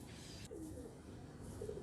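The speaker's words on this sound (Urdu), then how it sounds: "تو یہ ایک بریڈر میرا کبوتر ہے" Soft, low coos from a breeder pigeon repeat a few times over a steady, faint background hiss, close but quiet.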